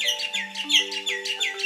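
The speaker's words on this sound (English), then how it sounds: "Can you hear the birds chirping?" Birds chirping in a jungle, a quick repeating series of bright, high tweets in a steady rhythm over a faint sustained tone, clear and close with no voices.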